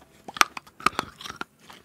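Hard MRE chewing gum being bitten and chewed, a quick run of sharp close crunches and clicks, loud and alone for a couple of seconds.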